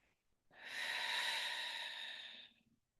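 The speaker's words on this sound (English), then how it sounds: "let's take a nice, beautiful breath" A single deep breath taken during a gentle movement exercise, one long airy inhale lasting about two seconds, close and clear in a quiet room.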